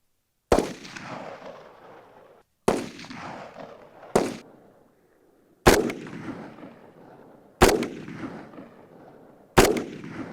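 Army soldiers fire weapons in a demonstration in Nagarparkar, six loud single shots spaced a couple of seconds apart, each a sharp crack followed by a long outdoor echo.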